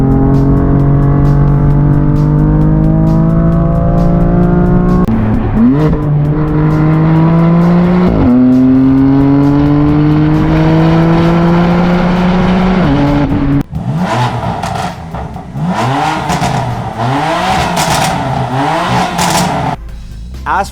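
BMW M3 CS (F80) with the factory exhaust on its S65 engine, revving hard through repeated rising pulls and gear changes, loud and close, raspy and muffled, with the tone shifting after a pause partway through.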